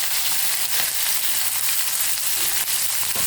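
Fenugreek, cumin and onion frying in hot oil for a tamarind-style vegetarian curry: a loud, close, continuous sizzle with a few soft stirring knocks.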